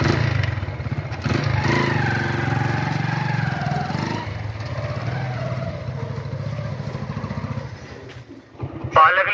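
A motorcycle loaded for door-to-door vegetable selling rides off: a loud, steady engine rumble with shifting pitch as it pulls away, close to the listener, then dropping off near the end, with a voice faint underneath.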